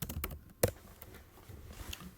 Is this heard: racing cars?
no